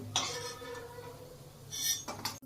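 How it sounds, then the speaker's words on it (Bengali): Fried fritters are lifted out of a pan with a utensil, giving two short metallic clinks and scrapes over a faint background hum, close and fairly quiet. "বড়াগুলো আমি আবার ভেজে তুলে নিচ্ছি।"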